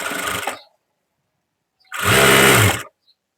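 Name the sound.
sewing machine stitching blouse fabric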